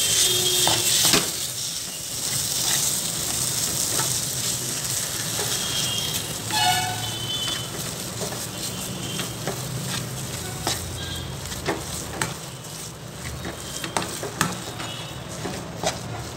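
Potato mash being stirred with a spoon in a hot pan after a teaspoon of salt goes in, a steady scraping and sizzling texture with occasional clinks against the pan, fairly close and continuous.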